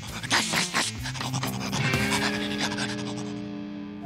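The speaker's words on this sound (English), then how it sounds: "Just look at Gnasher, the best-kept dog in the world" A cartoon dog pants hard in quick, breathy bursts, close and clear, trailing off toward the end over a faint musical tone.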